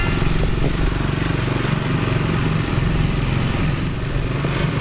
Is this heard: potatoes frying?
no